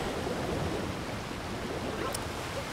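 A big waterfall in Super Mario Odyssey roars as a steady, dense wash of rushing water, constant and fairly loud, with no talking over it.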